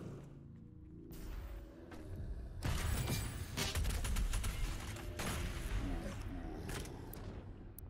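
DOOM Eternal combat erupts after a quieter start, with loud repeated gunfire, booms and crashing impacts layered densely from about three seconds onward, staying heavy to the end.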